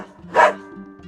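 A single short dog bark rings out in the Metal Slug: Awakening game, loud and close over a quiet hum of game sound, with no talking.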